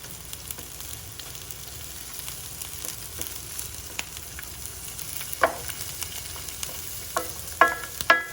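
Onions fry in a skillet with a continuous soft sizzle and crackle, broken by occasional scraping and clinking as they are stirred and spread around the pan.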